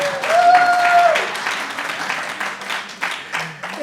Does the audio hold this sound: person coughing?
no